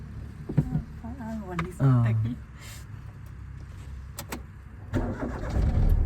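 A car engine cranks and catches, turning over then settling into a low running rumble, with people talking nearby before and during the start.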